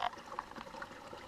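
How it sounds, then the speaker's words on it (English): Small babbling brook running beside a forest campsite, a soft continuous trickle of water, faint and close, with no voices. "We got a little brook, babbling brook right beside us."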